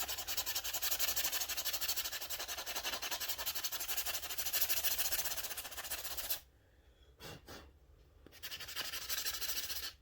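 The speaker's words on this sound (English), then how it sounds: "Of course, me sanding these don't help." Homemade crankbait fishing lures being sanded by hand in a dusty workshop, a steady close rasping scrape for about six seconds, then short breaks and a quieter resumption near the end.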